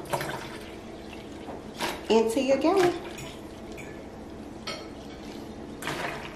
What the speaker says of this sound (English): And then you just pour the rest of your distilled water